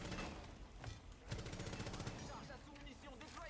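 Rapid automatic gunfire in the Rainbow Six multiplayer video game, bursts of quick shots fairly distant and quiet, layered with game ambience and clatter throughout.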